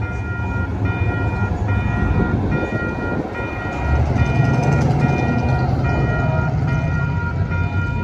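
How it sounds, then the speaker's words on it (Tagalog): A train rumbles past loudly in downtown Calgary, its horn sounding in repeated steady blasts over the heavy rolling clatter. "Yan na yung tren."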